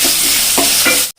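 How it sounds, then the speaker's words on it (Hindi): Chopped tomato and onion fry in a pan with a loud, close hiss and a few soft stirring strokes, cutting off abruptly after about a second. "अब एक तरफ हमारा टमाटर और प्याज फ्राई हो रहा है"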